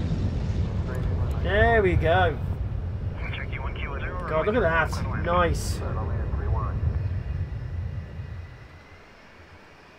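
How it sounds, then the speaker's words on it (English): Aircraft engine drone from planes landing at an airport in the simulation game SimAirport, a steady rumble with rising whines, heard under a man's speech and fading near the end. "More planes landing."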